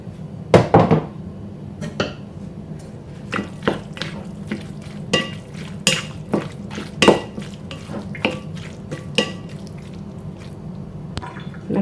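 Spoon stirring shredded chicken pastilla filling in a pan, with a steady low sizzle underneath and repeated sharp scrapes and taps against the metal, close up and moderately loud.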